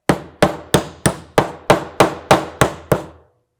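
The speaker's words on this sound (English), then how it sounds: "hammer in that nail" A hammer drives a nail into a wooden cajon with ten evenly spaced, loud, sharp strikes, each ringing briefly before the next, close and alone.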